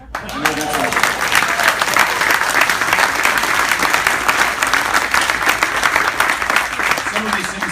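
A town hall audience claps in sustained, dense applause that stays loud and even throughout, with a voice talking faintly over it.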